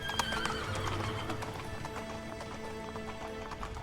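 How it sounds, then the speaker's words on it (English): A horse gallops through a storm with dense, continuous hoofbeats, snorts and a whinny, all mixed with heavy rushing wind and rain noise throughout. "the men mounted the stranger's black steed and they travelled through the storm at such speed"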